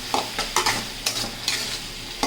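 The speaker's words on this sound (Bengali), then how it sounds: "তো এই মশলাটাকে বেশি কষবো না, একদম হালকা করে কষবো" Mustard spice paste with salt, turmeric and mustard oil fries lightly in a pan, a soft sizzle broken by about six sharp scraping stirs of a spatula at an uneven rhythm, no voices.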